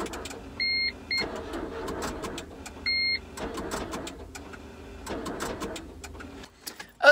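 A Smart car with a dead battery makes faint, intermittent electrical whirring and buzzing, with two short tonal beeps recurring, all recorded close up in a quiet setting.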